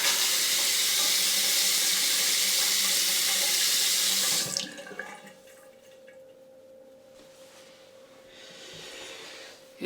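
Tap water runs loudly into a sink to rinse a bar during handmade soap making, a steady rushing stream that stops abruptly partway through, leaving a quieter room with faint handling sounds.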